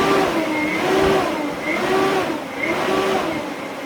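Massive dual electric ducted fans on a test stand, running on 48 V, ramp up with a loud, steady, close whine and roaring airflow, holding tonal pitches that surge slightly over a few seconds.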